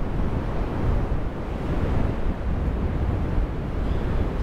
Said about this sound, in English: I'm here at the ocean.